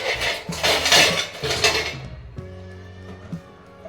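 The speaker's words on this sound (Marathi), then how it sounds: "आता ते घेते एवढे भांडे लावते" Metal pots and pans are stacked away in a home kitchen, a run of loud clanks and ringing bangs that gives way to quieter, sustained metallic resonance as the stack settles.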